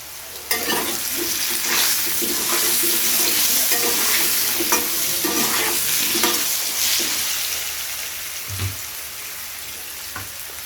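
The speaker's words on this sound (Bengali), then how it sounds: "একটু লাল লাল করে কুমড়োগুলোকে ভেজে নেব।" Pumpkin pieces frying in oil with a little salt and turmeric give a steady, close sizzle, with spatula stirring and scraping against the pan in irregular strokes and a brief knock near the end, and no one talking.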